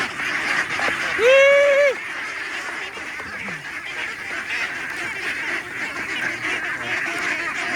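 Free-range ducks quack and honk while being fed, one loud nearby call standing out early over a continuous chatter of the flock, with a person speaking in the background.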